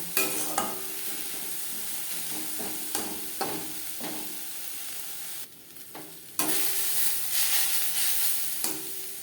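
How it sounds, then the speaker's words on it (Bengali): Onions frying in oil in a pan with turmeric powder and salt, a continuous sizzle broken by repeated scrapes and clinks of a spatula stirring, close and fairly loud with no talking. "লবণ হলুদ দিয়ে পেঁয়াজ ভেজে নেব"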